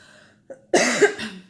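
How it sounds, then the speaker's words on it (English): A single harsh cough bursts out close to the listener, preceded by a short breathy sound and trailing into a rough throat noise. "Sorry, cough."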